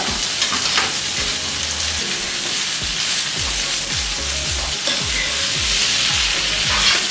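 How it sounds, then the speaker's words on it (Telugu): Beans fry in a pan for an egg curry, giving a steady close sizzle with repeated rhythmic scraping as a spoon stirs them. "ఒక్క నిమిషం ఇలా ఫ్రై చేసేసుకుంటే సరిపోతుంది."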